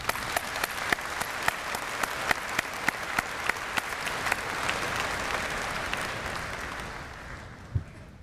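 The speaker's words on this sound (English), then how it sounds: "Join me in giving our parents and professors and families a big round of applause" Sustained applause from a university convocation audience at Waterloo's 2013 math ceremony. It is a dense, even wash of many hands with some sharper claps, easing off toward the end.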